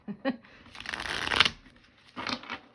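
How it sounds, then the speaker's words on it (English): Playing cards are riffle-shuffled and bridged with a long rustling burst, followed by shorter flicks and taps of the deck, while someone speaks softly nearby. "it takes me a long time to shuffle"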